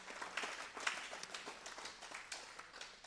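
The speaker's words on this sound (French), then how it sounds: "on peut les applaudir aussi" Audience applause after a conference talk on sleep apnea, a soft, distant patter of scattered clapping that stays quiet and even for a few seconds.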